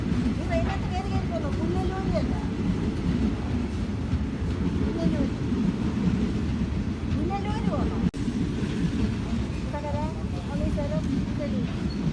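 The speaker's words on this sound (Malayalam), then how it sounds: "കൊട്ടാരക്കര റെയിൽവേ സ്റ്റേഷനാട്ടോ ഇത്" A train at Kottarakkara railway station rumbles steadily with a loud low-frequency drone throughout, while people talk nearby over the noise and a voice rises now and then.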